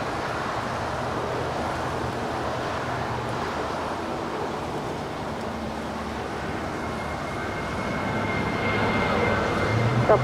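A Japan Airlines Boeing 777-300ER airliner bound for Tokyo Haneda at Los Angeles airport makes a steady, faint jet rumble from a distance, swelling slightly toward the end, with no talk.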